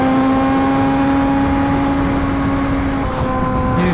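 A superbike engine at a Fourth of July beach holds a loud, steady high-revving drone with sustained tonal harmonics for several seconds, the pitch dipping briefly near the end.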